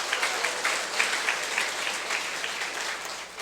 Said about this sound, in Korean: 박수 한번 치고 갈까요?